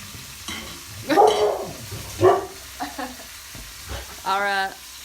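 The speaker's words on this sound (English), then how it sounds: "Our dogs are not fans of the gardener who's here." Dogs bark at a gardener from inside a home kitchen, giving a few sharp, separate barks over the sizzle and stirring of food frying nearby.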